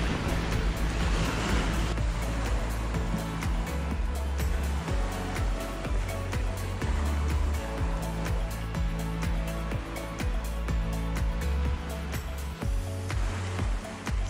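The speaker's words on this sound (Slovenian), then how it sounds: "Morje!" Sea waves wash onto the Slovenian coast near Debeli Rtič and Ankaran, a loud continuous surf rush with breaking swells and some wind buffeting on the microphone.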